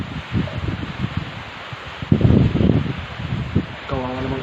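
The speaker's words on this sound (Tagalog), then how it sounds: "Malakas yung hangin." Strong wind gusting past the microphone in a community during Typhoon Ulysses, rumbling and buffeting unevenly with a heavier surge midway, while people talk over it.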